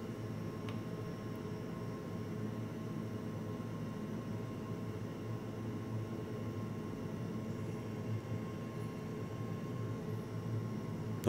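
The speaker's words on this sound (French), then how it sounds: "Donc voilà ce que ça donne hein, de se balader à 420 nœuds en avion de chasse." Steady, unbroken roar from inside a BAE Hawk T1 jet trainer flying low at 420 knots, a constant dense rumble with no talk over it.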